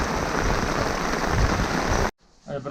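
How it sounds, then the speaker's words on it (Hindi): Heavy rain hisses steadily at a mountain camp below Bali Pass during a trek with snow falling, a dense, close wash of drops that cuts off abruptly near the end. "बहुत ज़्यादा एकदम से स्नो आ रही है, बारिश भी आ रही है"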